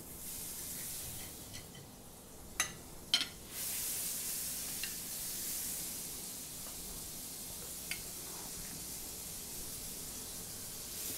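Butter melts in a hot pan, a faint, steady sizzle and hiss with a few brief clicks and taps of utensils now and then.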